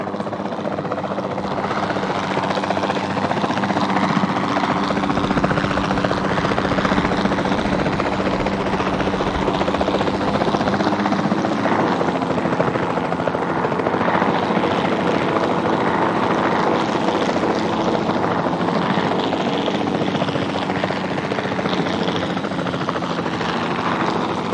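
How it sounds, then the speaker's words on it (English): Steady loud drone of a capture team helicopter hovering in Jurassic World Evolution 2, a continuous rotor and engine roar held at constant level throughout, with no talk. "Then the sensible thing is to take a capture team helicopter."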